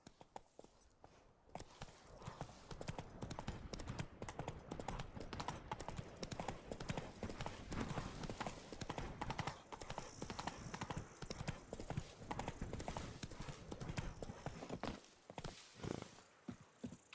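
Roach the horse trots in The Witcher 3's Blood and Wine expansion, her hooves clip-clopping in a steady, continuous rhythm close by, with soft game ambience around it.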